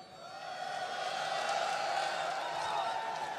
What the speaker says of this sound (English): We've got a good crowd behind us.